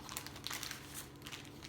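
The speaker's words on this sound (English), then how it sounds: "Take a scissors and cut the corner of the bag" A plastic Ziploc bag filled with jam is snipped at the corner with scissors and crinkled, giving soft, close rustling and crackling for a moment.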